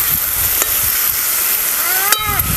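Onion and garlic masala sizzles loudly in a frying pan as it is stirred, a constant close hiss with a few clinks of a spoon against the pan, and no talk.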